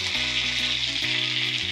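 Curry leaves drop into hot oil for tempering and set off a loud, continuous sizzle and crackle close up. A steady hiss holds for under two seconds with no talking.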